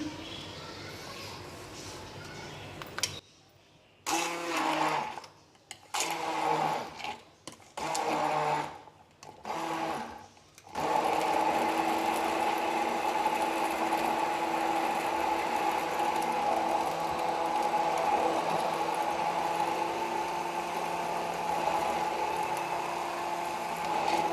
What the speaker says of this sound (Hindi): इसको आपके सामने ब्लेंड करती हूँ